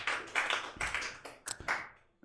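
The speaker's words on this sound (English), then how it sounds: "let's give a round of applause for Joe Manno" A small audience at a live comedy show at Tattooed Mom in Philadelphia claps in a short, fairly close burst of applause that fades out within about two seconds.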